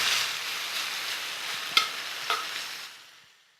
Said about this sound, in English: as the pancetta cooks down, it's going to release its own oils and fats